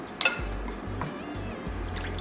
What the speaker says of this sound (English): Going to add a tablespoon of water, actually 2 tablespoons of water.